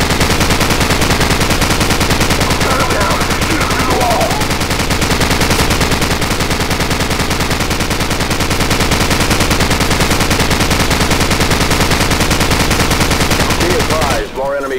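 Call of Duty 4: Modern Warfare battle in a bog, with continuous loud rapid machine gun fire dominating throughout, dense and relentless, ending with a short break near the end.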